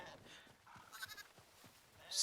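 Sheep in the video game Hytale give a few short, soft bleats at moderate distance, with a brief clicking game sound near the end.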